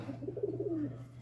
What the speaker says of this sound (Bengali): এটা নর পায়রাটা